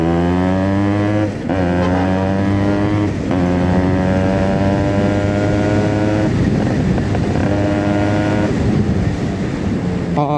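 A Yamaha RX100 two-stroke motorcycle revs loud and close with quick throttle blips, its engine note climbing in pitch again and again with brief dips between bursts.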